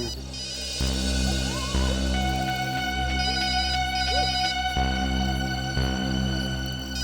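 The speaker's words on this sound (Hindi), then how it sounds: "बेल बज रही है सर, फोन अंदर ही है।" A phone ringtone plays continuously, a steady repeating electronic tune at moderate volume with no voices over it.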